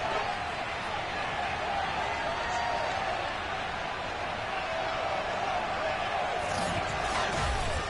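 Sold-out stadium crowd cheering before a Bills versus 49ers football game in the video game Madden 22, a steady, dense roar of distant voices filling the whole stretch without breaks.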